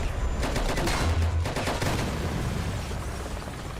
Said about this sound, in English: we are not going to just fire our machine gun into the air when we are deep in enemy territory